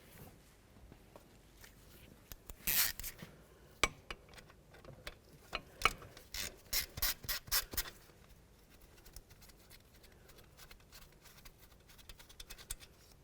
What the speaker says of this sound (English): Now what we want to do is just remove this 10mm headed bolt right there,